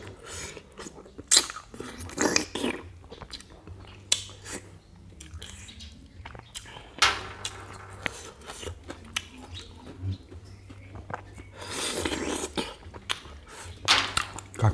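Crunchy Lao-style pounded blood cockle salad made with large cockles is bitten and chewed in sharp, irregular crunches, with soft clinks of dishes or cutlery between bites and no speech.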